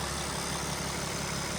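A 2025 RAM 3500 BigHorn 4x4 dually with a 6.7 diesel engine runs at a steady idle, a continuous close rumble with no variation.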